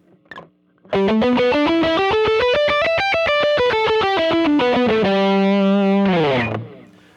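A distorted electric guitar plays a steady run of single notes climbing up and back down a three-note-per-string pentatonic scale, ending on a sustained, bending note.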